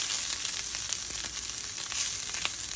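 A bitter gourd stir-fry (mezhukkupuratti) sizzles in a pan as it is stirred, with a steady close hiss and faint scraping and no voices.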